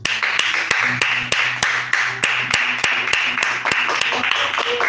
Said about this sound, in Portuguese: Glória a aplaudir o Deus